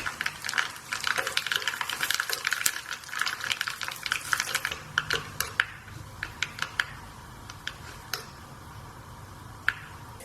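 Mustard seeds and dried chilies frying in hot melted fat for a dal tadka, giving quick scattered popping crackles and pings over a steady low sizzle, busiest at first then thinning to sparse pops.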